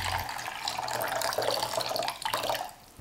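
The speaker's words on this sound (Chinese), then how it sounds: "加入适量的凉开水" Cooled boiled water is poured into a bowl of sauce made with minced garlic, soy sauce, vinegar and sesame oil, producing a continuous close splashing trickle for about three seconds with no voices.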